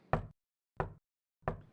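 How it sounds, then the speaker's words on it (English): Three sharp knocks, evenly spaced and hollow, sound on a door as a sound effect in an old-time radio play, each knock isolated against silence. "Knock, knock, who's there?"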